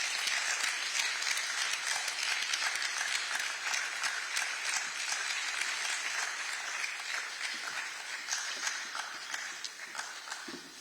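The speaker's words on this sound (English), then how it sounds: "Please, let's give them a round of applause." Loud, sustained applause from an audience at a banking and innovation awards ceremony, steady crowd clapping filling the room throughout without a break.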